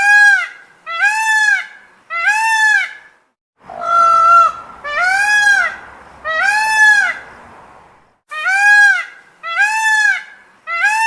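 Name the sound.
peacock squawking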